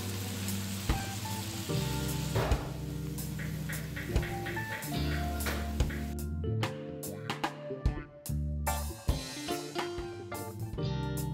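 Onions, chestnuts and mushrooms sear in a hot pan, giving a steady loud sizzle and crackle with occasional sharp pops and stirring clatter, close up and alone.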